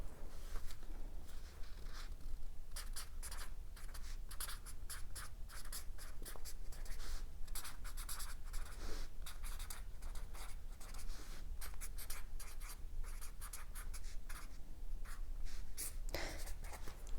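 Pen writing on paper in a continuous scratchy stream of quick strokes, close and steady throughout, no talk.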